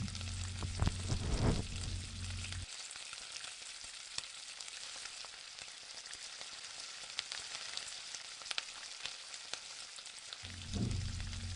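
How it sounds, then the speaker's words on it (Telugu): Onion and tomato for an egg curry fry in a pan with a steady crackling sizzle, while a spoon scrapes and stirs loudly at the start and again at the end. "ఒక రెండు నిమిషాలు ప్లేట్ పెట్టిన తర్వాత మళ్ళీ ఒకసారి అంతా ఒకసారి మిక్స్ చేద్దాం"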